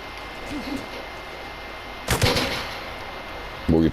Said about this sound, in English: Oh, I've got no cover from this sniper.